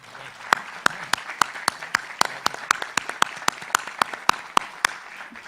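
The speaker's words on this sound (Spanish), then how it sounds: "Les pido para él un aplauso." Applause at a university conference session on planning, participation and democracy, where a few people clap in a sparse, regular rhythm. Distinct individual claps are spaced roughly every third of a second, close and clear over a quiet room.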